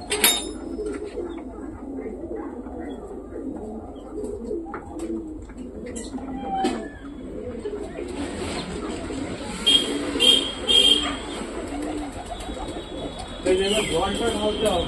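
Newly bought pigeons from a market coo repeatedly and close by, their soft throaty calls rising and falling throughout, with a few sharper chirps and a high electronic buzz joining in the latter half.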